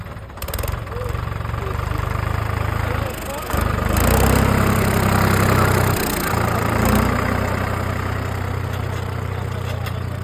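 A tractor engine idles steadily at an agricultural exhibition during a test drive, its low, even rumble continuous and fairly loud throughout, with a brief dip midway and voices faintly mixed in.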